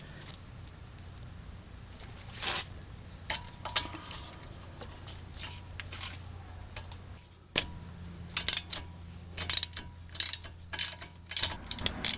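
Ratchet clicks break loose and spin out the 18mm caliper support bracket bolts on the front brakes of a 2007 Chevy Silverado 1500, with quiet low hum early on and sharper, louder bursts of ratcheting later in the clip.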